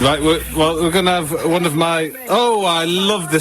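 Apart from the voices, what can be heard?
No distinct noise like a dog, phone or traffic.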